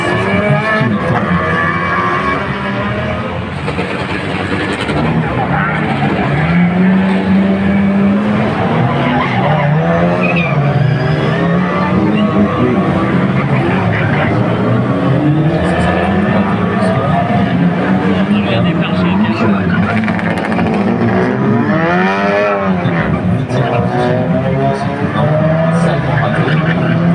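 Mini race cars racing on the Angoulême street circuit during the Circuit des Remparts event, loud engines and tire skids rising and falling across the clip, with a commentator talking continuously over the racing.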